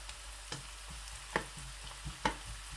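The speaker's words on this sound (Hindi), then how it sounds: "अच्छे तरीके से ब्राउन हो प्याज, लाइट ब्राउन से थोड़ा सा" Onions frying toward a deep brown for chicken gravy make a soft, even sizzle, punctuated by several sharp spoon knocks and scrapes against the pan.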